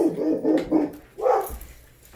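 Two house dogs, Forrest and Luna, bark in a quick string of close, moderately loud woofs, pause briefly, then let out one more bark toward a passerby in the street.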